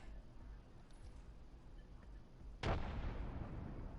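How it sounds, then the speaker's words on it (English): A frag grenade goes off in the Apex Legends firing range, a single sharp blast at about two and a half seconds that leaves a rumbling tail over steady game ambience. "Look out, grenade."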